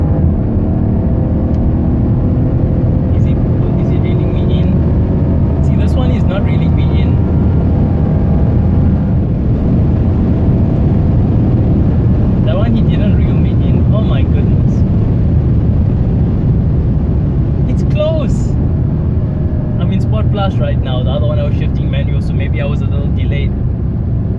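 Inside a BMW M6 racing a Mercedes CLS63 AMG from a stop, a loud, continuous engine drone and rising acceleration roar fill the cabin, with someone talking over it throughout.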